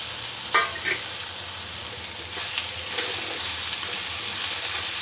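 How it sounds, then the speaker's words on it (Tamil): Karonda berries sautéing in a pan over a medium flame for a karonda dal, giving a steady close sizzle with brief stirring scrapes and crackles, no voices. "இது ஒரு 5 to 7 மினிட்ஸ் இப்படி வந்து வதக்கினாலே மீடியம் ஃப்ளேமில் இந்த கிளாக்காய் நல்லாவே வந்து குக் ஆகிடும்"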